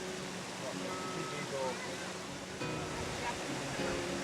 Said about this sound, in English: these cascades are an oasis for bathers who enjoy lounging in the sulphurous, hot water.